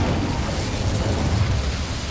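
A fire spell cast in the Hogwarts Legacy video game inside a small mine, a dense roaring whoosh of flame holding loud and steady for the whole stretch, with no voices.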